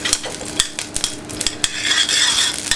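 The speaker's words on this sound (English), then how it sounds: "So when you have a hot pan, just add a little bit of brown butter to it." Brown butter sizzles in a hot pan with loud, busy crackling, while a utensil clinks and scrapes against the pan in quick, irregular strokes.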